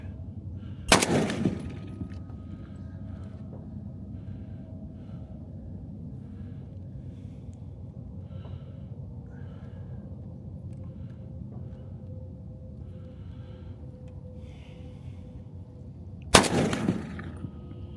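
Two sharp, loud rifle shots from a Savage 99 chambered in 300 Savage, fired about fifteen seconds apart outdoors, each a close, booming crack over quiet background.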